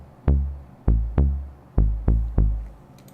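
Six synthesized notes of a minor scale, coded in Jupyter, ring out one after another, each with a sharp plucked attack and quick decay, spaced at a slightly uneven, steady pace.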